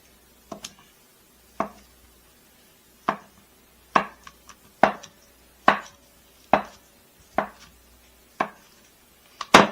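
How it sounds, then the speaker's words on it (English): Knife slicing cream cheese into small cubes on a cutting board, a steady series of about a dozen crisp, close thuds against the board, each ringing out briefly, with no talking. "We're going to get our cream cheese and we're going to cut it up."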